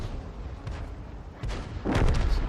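A tank cannon fires a shell in a World War II tank game around a Grille and a T-34-85, giving a loud broadband boom near the end after quieter rumbling shots earlier.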